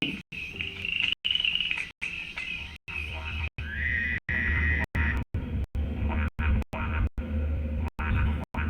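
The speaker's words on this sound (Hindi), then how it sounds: "मेंढकों की आवाज की दिशा में बढ़कर उन्हें खोजते रहें" Frogs calling in a forest at night, a dense loud chorus of repeated croaks and trills with insects chirping behind, cut by regular sharp gaps as if chopped into short segments.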